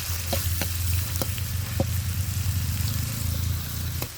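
Garlic and lemongrass stir-fry in a hot pan with a steady close sizzle, broken by a few sharp clinks of a utensil scraping and stirring, the frying hiss continuing unbroken throughout.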